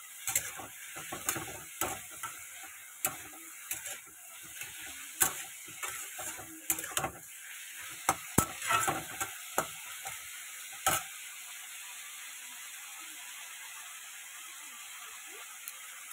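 Spices and turmeric fry in a pan with a soft, steady sizzle under a series of sharp clicks and scrapes from stirring, which stop partway through, leaving only the faint hiss.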